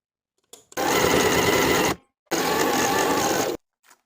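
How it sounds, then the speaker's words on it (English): A sewing machine stitches buttonholes on a knit cardigan bodice in two steady, fast bursts with a brief pause between, close and loud. "I'm using my sewing machine."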